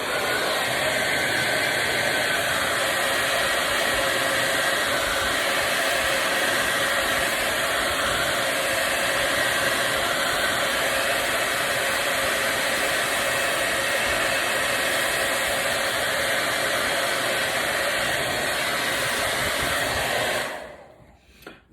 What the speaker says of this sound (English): I dry it with a hair dryer